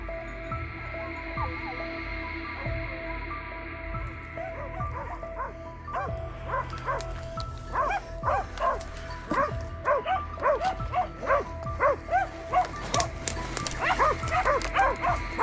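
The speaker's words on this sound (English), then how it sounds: "the sharp baying of hunting dogs immediately caught his attention" Hunting dogs baying and yipping during a wild boar hunt, several sharp barks in quick irregular bursts that grow denser and louder toward the end, over a faint steady hum.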